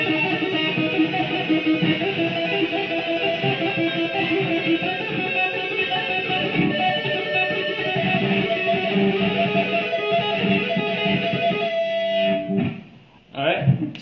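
Electric guitar played with a tapping technique: distorted notes run in a fast, continuous pattern for about twelve seconds, then stop briefly before a few final notes ring out.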